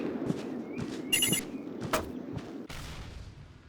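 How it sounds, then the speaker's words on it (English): Mortar fire in the zombie shooter game Instinct: a few muffled booms and thuds rumble under game ambience, with one sharp crack and a sudden drop-off near the end. "Had to deal with some mortar fire."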